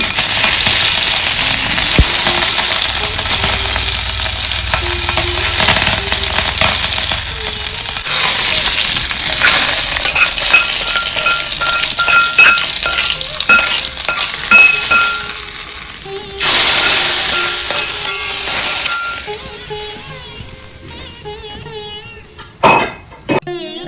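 Bitter gourd and chili frying in coconut oil, a loud close sizzle with stirring scrapes and occasional clinks of a utensil, plus a cough and some talk in the background.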